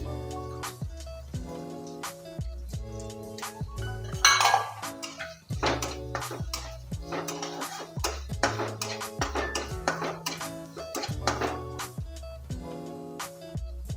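Onion, capsicum and cabbage are tossed in a pan with garlic for soya chilli, a spatula clanking and scraping against the metal in a quick, irregular rhythm, close and fairly quiet, with no talking.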